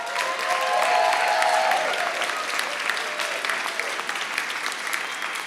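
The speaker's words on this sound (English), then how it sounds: "Let's give them a rousing round of applause." A church congregation breaks into sustained applause, a dense wash of clapping that swells early and then holds steady for several seconds.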